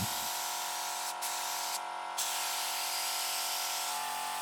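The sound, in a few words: spray tool loosening rust on car body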